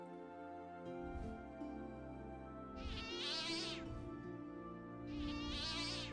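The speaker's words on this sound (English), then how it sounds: "that cat noise sucks" Synthetic cat meows from an RPG Maker video game, several drawn-out buzzy cries repeating over a steady game backdrop with no talking.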